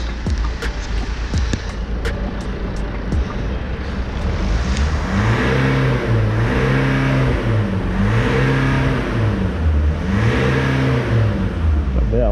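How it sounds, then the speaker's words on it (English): A BMW 320d diesel engine with a misfire is revved repeatedly, rising and falling in loud, close cycles over a rough idle, with brief tapping sounds before the revving begins. "You can hear the car still missing."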